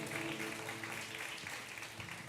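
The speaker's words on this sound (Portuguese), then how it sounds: "Você pode aplaudir o nome do Senhor Jesus?" Church congregation applauding during a worship service, a dense, steady wash of many hands clapping that is heard faint and distant throughout, with no voices on top.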